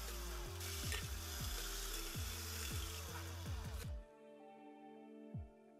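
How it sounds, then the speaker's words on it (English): A small power drill bores holes into the top and bottom of an aluminum soda can, a steady high whine with rhythmic pulsing for about four seconds, then stopping abruptly, with a faint click afterward. "drill small holes in the exact center of the top and bottom of the can"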